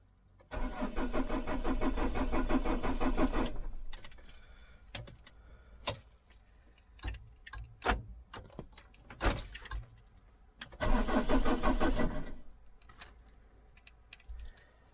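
A campervan engine cranks over without catching, two bursts of steady starter churning about three seconds and one and a half seconds long, separated by clicks and knocks, loud and close.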